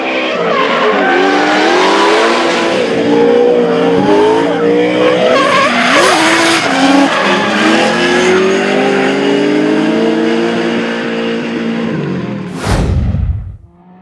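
Drift cars battling at a D1NZ drifting round in Christchurch, a Nissan S13 powering away from a Holden Commodore, with loud continuous tire squeal and skidding over screaming engines, ending in a sharp burst of noise.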